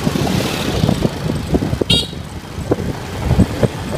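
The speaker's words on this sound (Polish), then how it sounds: "Odpowiadamy znajomym na odtrąbienie." A vehicle horn toots briefly once on a busy road in Hoi An, sounding at middle distance over a steady wash of scooter and car traffic noise.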